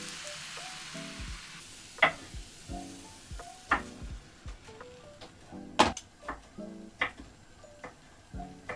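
Somali sambusa frying in hot oil in a home kitchen, a faint sizzle under irregular clicks, taps and utensil knocks scattered throughout.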